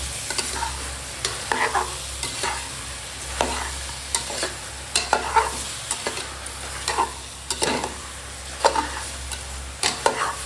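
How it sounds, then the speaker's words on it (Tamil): A spoon scrapes and clatters repeatedly in a pot of mushrooms, in irregular strokes over a soft continuous sizzle of frying. "இப்போ மஷ்ரூம் சேர்த்து போட்டு நல்லா கலக்கி விடுங்க"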